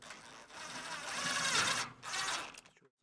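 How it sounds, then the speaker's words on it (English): A power driver sends self-tapping screws into a rigid metal box support, giving a brief whirring, grinding run of about two and a half seconds with a short dip midway, fairly quiet and close, before it stops. "I'm going to go ahead and mount it here using self-tapping screws."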